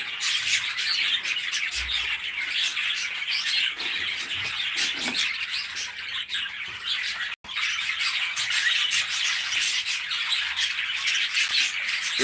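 A group of budgerigars chirps and squawks nonstop, close and fairly loud. Dense overlapping calls continue with only a brief break near the middle.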